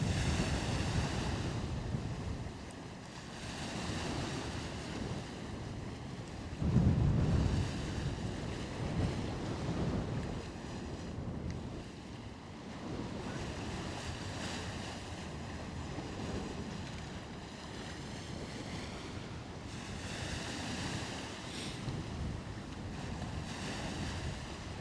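Waves surge and break steadily on Coney Island beach on a freezing winter evening, a continuous wash of surf with gusting wind buffeting the microphone, fairly loud and close throughout.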